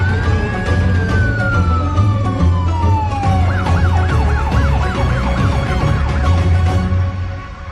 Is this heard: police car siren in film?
yes